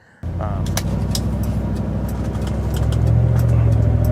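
A truck engine running steadily up close, a loud continuous rumble that starts abruptly and swells slightly toward the end.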